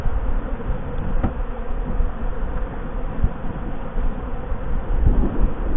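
A dense, continuous buzz of many honeybees swarming close by a hive during autumn feeding, steady and loud with slight fluctuations.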